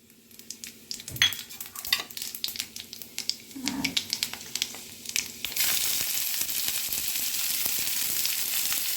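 Whole spices are tempered in hot oil for a prawn and pumpkin fritter curry, starting as scattered utensil clinks and stirring, then swelling into a loud, steady, hissing sizzle that carries through to the end, with no talk.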